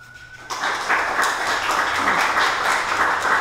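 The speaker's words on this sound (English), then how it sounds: "So please, with an encouraging applause" An audience at a public library poetry reading breaks into applause that starts suddenly and holds as an even wash of clapping.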